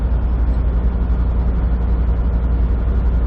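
A truck's engine runs on Interstate 69 near Port Huron, Michigan, giving a loud, steady, low drone with road rumble that stays constant from start to finish, with no talking.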